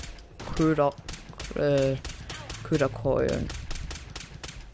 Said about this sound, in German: Ihr seht, ich kann richtig oft schießen, bis es wegverzieht.